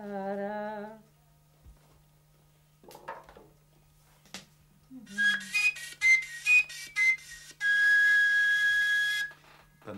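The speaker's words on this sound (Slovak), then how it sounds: "Pán Gigac, pozerám, čo sú to za zvláštne píšťaly, čo robíte?" A Slovak folk whistle pipe made from a spotted hemlock stem sounds in short bright trills and blasts, then a long sustained high whistle, following a brief sung phrase and a few knocks, close and loud over quiet surroundings.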